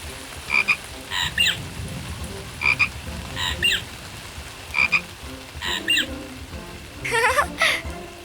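Cartoon frog croaks in short repeated bursts over a steady wash of falling rain, the calls fairly close and evenly spaced, with a busier cluster of croaks near the end.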